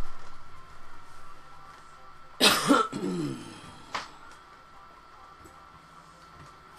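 A single harsh cough burst followed by a throat clear, close and fairly loud, with quiet room noise before and after.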